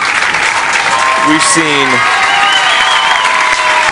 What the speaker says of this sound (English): a nice round of applause for Lovell